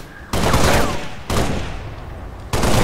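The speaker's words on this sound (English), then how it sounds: "Again, he's shooting all around me." Halo: Reach gunfire in a live custom game, with three loud bursts of shots opening at roughly one-second intervals, each ringing on with a long decaying tail.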